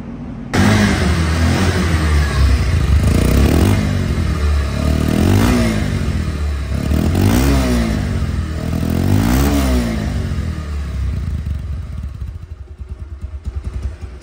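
Bajaj Pulsar DD ABS motorcycle, a 2023–24 bike in showroom condition, idling and revving loudly up close in repeated throttle blips with a steady engine rumble throughout, no talk.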